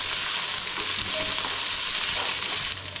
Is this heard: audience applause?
no